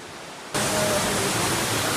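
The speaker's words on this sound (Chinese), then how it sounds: "这个瀑布像一条绳子一样啊，特别的细，但是水量还蛮大的，冲到下面的大石头上了。" A thin, rope-like waterfall with heavy flow crashes onto large rocks in the Yunlong ground fissure, a loud, steady broadband roar that cuts in abruptly and holds, close and alone.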